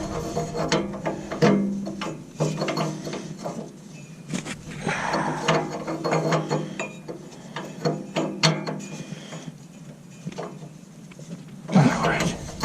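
A socket ratchet clicking while an O2 sensor is threaded into place on a car, with short bursts of ratcheting and metal handling under someone talking.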